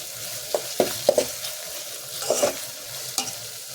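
Tomatoes and onions sauté in a pan for a South Indian green gram dal, with a soft steady sizzle under several sharp, close spoon strokes scraping and stirring at irregular intervals.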